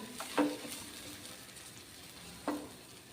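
Spices sizzling and being stirred in a pan for a Marathi-style vegetarian curry, with low steady frying and two brief louder scrapes of stirring spaced a couple of seconds apart.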